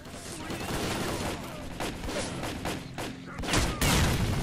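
A grenade blast and bursts of gunfire from a STALKER: Call of Pripyat firefight, loud and chaotic, with repeated sharp reports building to a heavy impact near the end.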